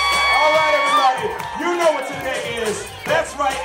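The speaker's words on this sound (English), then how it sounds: "Let out a cheer." A street party crowd whoops and cheers in bursts, excited shouts and voices rising over a lively outdoor hubbub, with a sung or shouted voice weaving through.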